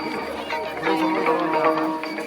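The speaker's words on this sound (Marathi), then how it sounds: "समोर गर्दी होत असते." A dense crowd at the Kunkeshwar temple fair (jatra) murmurs and chatters around the listener, with many voices blending into a steady close hubbub.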